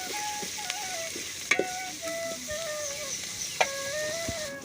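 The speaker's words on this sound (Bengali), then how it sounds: "এবার আদা আর শুকনো লঙ্কা বাটাটা দিয়েও অনেকক্ষণ নাড়তে থাকবো" A spoon stirs ginger and dried red chilli paste frying in a cooking pot, with a soft continuous sizzle and several sharp scraping clacks against the metal.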